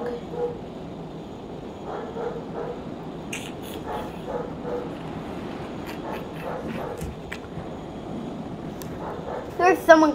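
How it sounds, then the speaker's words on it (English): A pet dog yips, barks and whimpers intermittently indoors, mostly soft with a louder burst at the end, while a person talks over much of it. "Oh, guys, so sorry about my dog."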